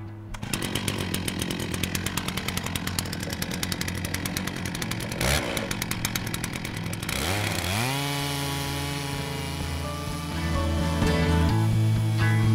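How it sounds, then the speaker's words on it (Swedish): A Logosol chainsaw mill roars loud and close, cutting steadily through a log, then the engine pitch drops and rises as it revs and idles. "Vänd upp stocken och såga det andra snittet."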